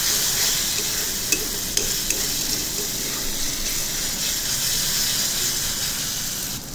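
Egg masala fries in hot oil that has separated at the edges while being stirred, giving a steady close sizzle with a few sharp scraping clicks of the spoon against the pan; no voices.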